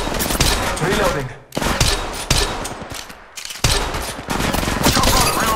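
Rapid automatic gunfire in the mobile battle royale shooter Apex Legends Mobile, sustained loud bursts broken by brief pauses across several volleys, with voices briefly under the shooting.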